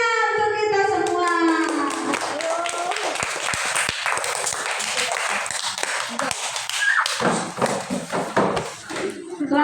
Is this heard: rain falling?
no